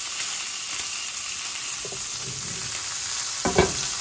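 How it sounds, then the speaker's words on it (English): A thick pork tenderloin sears in a hot pan with an even, close hiss. A couple of brief clinks and shifts sound near the end. "heat up and sear the meat and get it to release."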